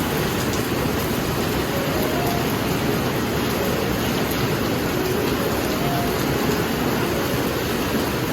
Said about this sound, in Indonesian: Pas aku masak ini di luar lagi hujan